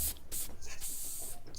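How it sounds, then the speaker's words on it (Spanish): Hairspray hisses from an aerosol can onto hair in several short, close bursts separated by brief pauses, ending with a small click. "Un poco de spray."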